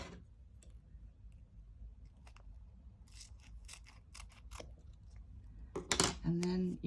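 Scissors snip through washi tape in a short run of quick, crisp cuts, close and faint, with handling clicks and a brief voice near the end.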